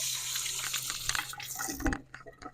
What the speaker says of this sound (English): let me just rinse that off my hands real quick